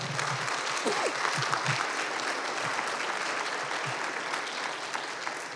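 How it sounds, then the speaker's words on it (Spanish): A church congregation applauds steadily and fairly loudly for several seconds, a continuous wash of many hands clapping together, with a few low thumps underneath. "Den un aplauso al Señor"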